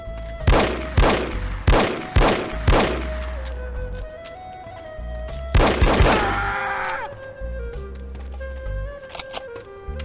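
Revolver fire in The Operative: No One Lives Forever: a run of loud, sharp single shots at a steady pace, then a pause and a tighter cluster of shots that ring out over background game music and effects.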